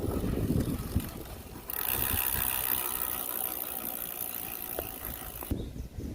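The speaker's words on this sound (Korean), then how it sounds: "파스 센서가 여기에 이제 닿으면서 그 모터가 작동을 하게 되는 거예요" A Bafang 500W 48V e-bike hub motor runs, triggered by its pedal-assist sensor, giving a steady close whir that rises and then drops back over several seconds with no speech.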